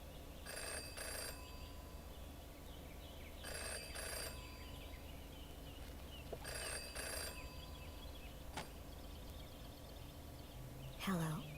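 A phone rings in the detective adventure game Jenny LeClue, with repeated short electronic ring bursts spaced a few seconds apart over a quiet background, and no speech.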